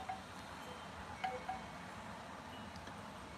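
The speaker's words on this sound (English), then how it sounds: "Quite windy." Steady wind rushes across the microphone, a soft continuous whoosh with a few faint gusty bumps and no voices.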